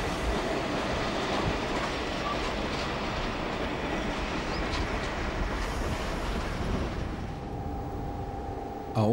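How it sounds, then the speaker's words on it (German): Double-deck passenger train hauled by a DB class 110 electric locomotive rolling past, with a loud, steady rumble and rhythmic wheel clatter throughout and a faint wheel squeal toward the end. "Auch einige Doppelstockzüge werden noch von 110ern befördert."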